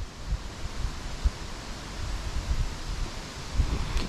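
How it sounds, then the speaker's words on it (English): Cold wind gusts outdoors in a steady broadband rush, with low buffeting rumbles where it hits the microphone; no one speaks. "It's pretty cold and windy out right now."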